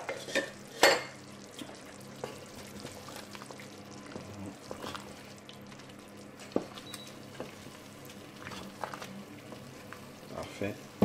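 Beef bourguignon is stirred in a pot partway through oven cooking, with soft scraping and bubbling, a few sharp clinks of utensil against metal, and occasional low speech in the background.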